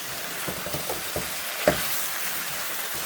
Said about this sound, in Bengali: এখন এই যে মিষ্টি কুমড়োগুলো কেটে ধুয়ে নিয়েছি, এখন দিয়ে দিলাম, নেড়ে নিব সুন্দর করে